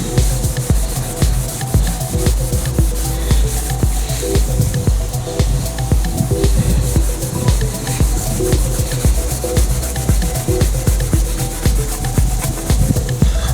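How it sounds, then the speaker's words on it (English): A microfiber rag rubs steadily over a fogged, oxidized headlight, making continuous close scrubbing and swishing strokes with a quick, even rhythm throughout. "Yeah, I just used a microfiber rag."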